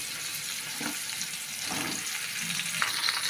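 Mixed chopped vegetables fry in a kadai with only a little oil, giving a steady close sizzle broken by a few soft stirring scrapes.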